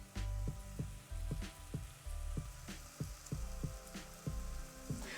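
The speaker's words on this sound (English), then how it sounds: "I want you to listen to the onions for 5 seconds." Onions sizzle steadily in a pan, a soft continuous frying hiss broken by regular low thumps, fairly quiet with no talking.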